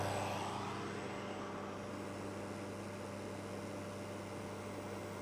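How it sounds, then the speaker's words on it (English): An induction cooker runs on a portable power station, giving a faint, steady fan whir and electrical hum at low level throughout, with no talking. "All I hear is the induction cooker."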